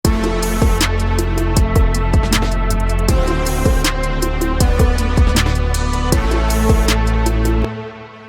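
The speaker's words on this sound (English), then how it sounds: "the drums sound like this before any of our processing in this tutorial" A dense, spacious full arrangement with an unprocessed drum mix, punchy kicks and snare hits landing in a steady groove over sustained instruments, loud and continuous until it cuts off near the end.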